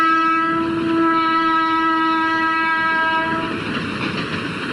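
A train runs along a railway line beside a historic Mughal-era tomb, its horn sounding a long steady blast over the heavy rumble of the cars rolling past, loud and close throughout with no talking.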